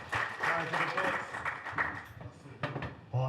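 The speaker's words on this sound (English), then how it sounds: "Give a round of applause for both fighters" Brief scattered clapping at a boxing press conference for the fighters, sparse hand claps mixed with voices talking over them for a few seconds.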